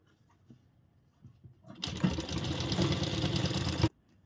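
A sewing machine stitching frock fabric runs in one steady burst of about two seconds, a close, even mechanical whir that stops abruptly, with quiet room sound before and after.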